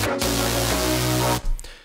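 An electronic chorus section plays with its auto filter switched off, sustained bright synth chords with a steady bass, changing once partway through, then cutting off abruptly.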